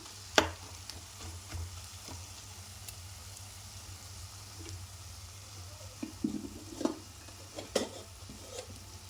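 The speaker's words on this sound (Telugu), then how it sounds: "ఇప్పుడు దీంట్లో మనం ఫ్రై చేసుకున్న వంకాయలు ఉన్నాయండి అవి వేసేసుకుందాం" Fried brinjals go into oil in a masala curry, giving a soft continuous sizzle with occasional stirring scrapes and clinks of the pan, fairly quiet and without talk.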